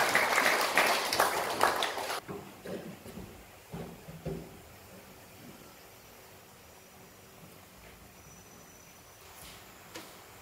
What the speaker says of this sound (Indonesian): kita beri aplaus untuk calon kepala desa nomor urut 1